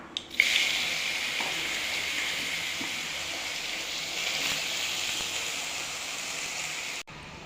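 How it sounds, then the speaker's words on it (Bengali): Bottle gourd is frying in a wok of oil with cumin, producing a steady, close frying hiss that starts abruptly and holds evenly throughout. "কড়াইয়ে তেল দিয়েছি, তেলের উপরে দিয়েছি জিরে। এবার লাউগুলোকে দিয়ে দেবো।"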